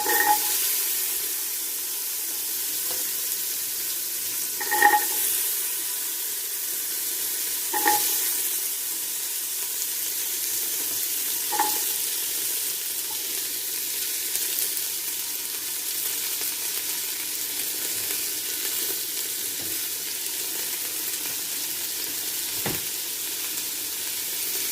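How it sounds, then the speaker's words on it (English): Vegetables sizzle steadily in hot olive oil in a home kitchen pan while chicken noodle soup is being made, a constant bright frying hiss with a few soft stirring clinks. "Oh, the olive oil is getting hot there. I'm gonna add our vegetables in."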